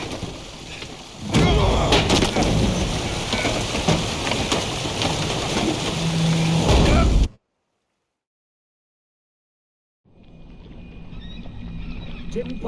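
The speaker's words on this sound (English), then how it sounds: "Didn't bargain for no storm." Heavy rain and storm noise at sea aboard a boat in The Witcher 3, a loud continuous roaring wash that cuts to silence, then returns softer with water and creaking.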